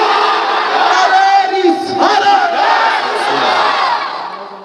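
A large crowd roars Allahu Akbar together in answer to a takbir call, a loud, sustained mass shout filling the space with no pause.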